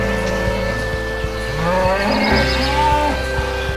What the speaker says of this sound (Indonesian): Ini adalah sapi.